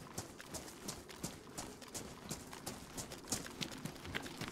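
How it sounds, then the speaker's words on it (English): Character footsteps in the survival video game DayZ, a quick steady run of crunchy, evenly spaced steps, fairly quiet and continuous with no talk. "So you might be able to hear my footsteps now."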